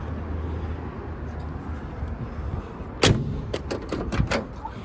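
Car door on a 1960 Buick Electra four-door flat top: after quiet outdoor background, a sharp, solid thunk of the door shutting lands near the end, followed by a few lighter knocks and rattles.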